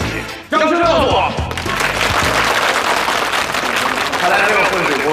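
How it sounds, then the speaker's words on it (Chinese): A studio audience at a dating show breaks into loud, dense applause after a brief quiet moment, the clapping swelling abruptly and continuing strongly, with some cheering mixed in. "掌声告诉我。"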